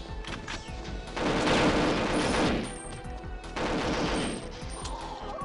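Sustained automatic gunfire from a weapon in Perfect Dark comes in two dense, loud bursts of rapid shots, separated by a brief lull with softer mechanical clicks.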